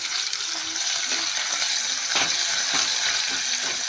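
Ginger and browned onions with a little coriander frying in a pan for a bitter gourd curry, a steady bright hiss with a few faint stirring clicks, close and continuous.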